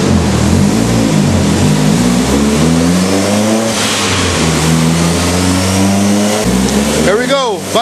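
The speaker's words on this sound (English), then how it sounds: "This car, we're trying to make 500 horsepower on a Dyno jet with stock ECU, stock motor" A Mitsubishi Evo 8 with stock ECU and stock motor and an old-style mechanical 35R turbo revs hard on a Dynojet dyno, a loud sustained engine roar climbing in pitch, with a person's voice over the top.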